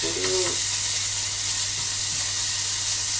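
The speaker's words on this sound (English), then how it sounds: "So cook the bacon off for a little bit first" Bacon sizzling as it fries in a pan during cooking in a truck cab, a steady, close, loud hiss and crackle that runs without a break, with a brief clatter at the start.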